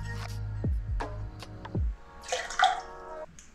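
Maple juice poured from a bottle into a small jigger while a Cosmopolitan is mixed: a few quick liquid drips and trickles, then a brief splashing pour, close and fairly quiet, with no voices.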